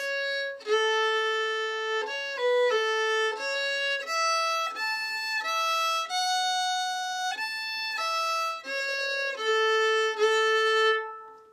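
Solo fiddle playing the closing of a traditional tune's B part, clear bowed melody with steady sustained notes, close and alone.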